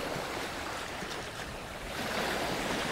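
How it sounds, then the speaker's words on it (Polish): Rough sea waves surge onto an Aruba beach on a windy day, a loud, continuous roar of churning surf and wind that swells slightly toward the end, with no talking. "dzisiaj przez to, że wietrznie, no to morze jest dość wzburzone"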